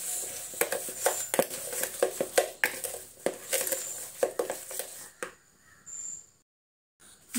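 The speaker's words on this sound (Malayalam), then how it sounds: "ഇതുകൂടെ നന്നായിട്ടൊന്ന് മിക്സ് ചെയ്യാം." A spoon scrapes and clinks against a bowl while mashed banana snack mixture with ground cardamom is stirred, giving irregular rhythmic taps and scrapes close by that stop near the end.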